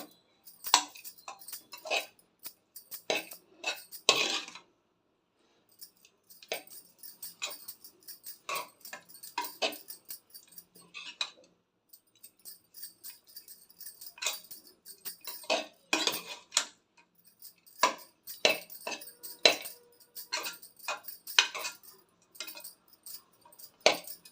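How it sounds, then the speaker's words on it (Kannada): A spoon clinks and scrapes against a metal vessel while cooked rice is mixed with tempering for chitranna, in irregular bursts of sharp taps separated by short quiet gaps, close and fairly soft, with no talk. "ಈ ರೀತಿ ನೀವು ಎಲ್ಲನೂ ಚೆನ್ನಾಗಿ ಒಗ್ಗರಣೆ ಜೊತೆ ಅನ್ನನ ಬೆರೆಸ್ಬೇಕಾಗುತ್ತೆ"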